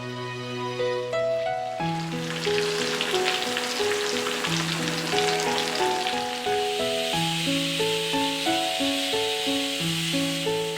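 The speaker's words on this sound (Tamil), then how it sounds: "இப்போ வந்து இது விசில் வர்றதுக்குள்ளே நான் சைடில் வந்து மீனை வந்து ஃப்ரை பண்ணிகிட்ருக்கேன்" Fish frying in a pan, a steady loud sizzle and hiss that runs throughout, with a tonal melody playing over it and no speech.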